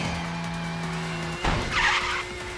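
In the Tokyo Extreme Racer video game, a car crashes with a sudden loud impact partway through, and tires skid and squeal after it over a steady engine drone. No one speaks.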